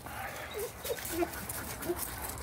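Puppies whimpering and whining in short high-pitched bursts outdoors, several small cries scattered over a faint background of movement and rustle.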